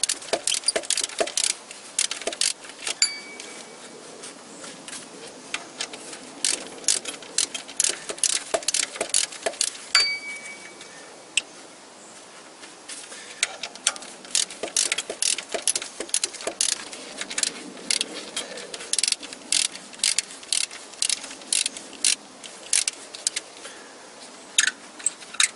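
Wrench loosening bolts on a Toyota Corolla VVT-i engine during a water pump replacement, heard as continuous close metallic ratchet clicks and clinks in irregular bursts with brief pauses.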